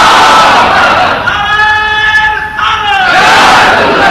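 A large crowd at a religious gathering chants slogans in unison, loud and close, one sustained, drawn-out shout that swells, dips briefly and rises again.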